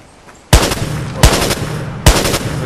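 Heavy bursts of gunfire from the Watch Dogs video game, three loud, close automatic volleys about a second apart, each a dense rattling blast that trails off.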